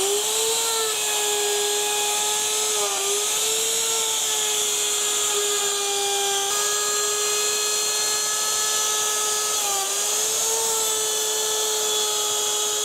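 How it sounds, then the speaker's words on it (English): A router cuts a rebate into timber resting on a router mat, for a plywood panel in a simple bedside table: a loud, steady high-pitched whine that holds for about thirteen seconds, dipping slightly in pitch twice as the bit loads in the wood. "So I've routed out the rebate now for the ply."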